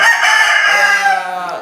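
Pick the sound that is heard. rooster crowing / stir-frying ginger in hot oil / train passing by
rooster crowing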